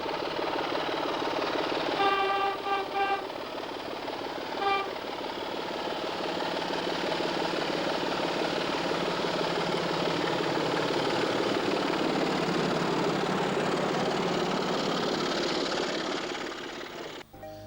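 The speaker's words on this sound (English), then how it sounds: "Here the loco heads for Swanwick, still carrying the distinctive BR Research livery." Class 24 diesel locomotive 97201 Experiment in BR Research livery running toward Swanwick at the Midland Railway Centre: a steady, moderate engine throb and hum building slightly, with a couple of brief two-tone horn sounds early on.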